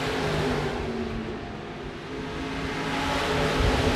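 Sport mod race cars run on a dirt speedway, a dense, rough engine roar that dips slightly and then swells again as the pack works through the turns.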